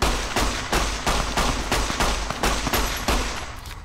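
A player's gun firing in Fallout: New Vegas, about nine loud, evenly spaced shots in steady rhythm, each a sharp broadband crack with a short ring, close and alone without talk.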